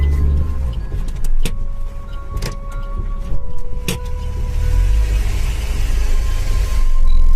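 A car backs up on a deserted road at night, its engine a steady low rumble with a few sharp knocks and a faint electric whine, fairly close and without voices.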